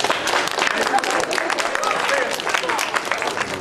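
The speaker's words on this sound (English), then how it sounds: "Let's give these guys a round of applause." A crowd at a science demonstration claps in warm, sustained applause, a dense, even patter of many hands for a few seconds, with a few scattered voices mixed in.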